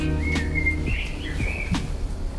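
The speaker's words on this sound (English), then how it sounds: "Birds are trying to tell something to me." Birds chirp and whistle nearby in short bright calls at waterfront villas in Göcek, Turkey, rising and falling over a steady low hum.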